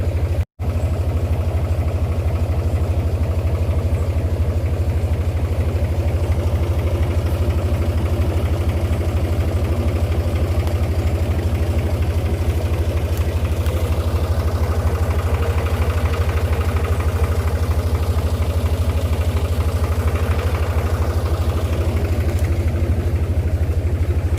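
A tractor engine idles and runs steadily throughout at a constant, loud, low rumble, close by near an abandoned village along the Palmetto River in St Thomas, Jamaica, with no talking.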